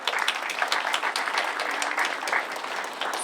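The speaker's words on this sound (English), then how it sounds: "Let's give another round of applause" An audience at an outdoor Indian Independence Day flag-raising ceremony gives a brief round of applause, a thick wash of many hands clapping at once with no pauses.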